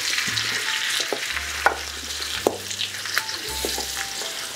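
Large salmon fillets frying in a skillet for a honey-glazed dish: a continuous loud sizzle with sharp clicks and scrapes as the fillets are turned.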